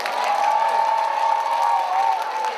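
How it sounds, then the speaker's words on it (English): A crowd applauds steadily and loudly for volunteers at a Mardi Gras themed show in New Orleans, with some cheering mixed into the dense, continuous clapping. "Let's give Randy and our volunteers a great round of applause."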